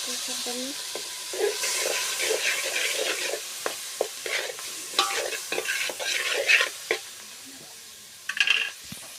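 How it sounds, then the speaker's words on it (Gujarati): Tomatoes sizzle in hot tempering oil while a utensil scrapes and stirs the pan in irregular strokes, close up. "ચાલો આપણે ટામેટા વઘાર દઈશું"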